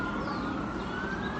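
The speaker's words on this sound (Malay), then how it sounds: "Ada bunyi siren," An emergency vehicle siren wails steadily outdoors, a continuous rising tone over low traffic rumble, moderately distant and without speech.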